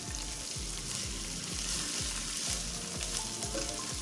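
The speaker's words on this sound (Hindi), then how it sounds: "देखिए इसको थोड़ा सा हमने सौटे करना है" Food sizzles and fries in a hot pan while being stirred, ahead of adding chicken, with rhythmic scraping strokes under a constant loud crackle.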